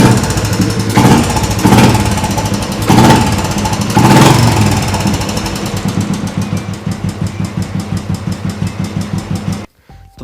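An old Royal Enfield Bullet motorcycle gets kick-started, throwing out several loud, heavy thumps before its single-cylinder engine settles into a steady, close, rhythmic thumping idle that cuts off abruptly near the end.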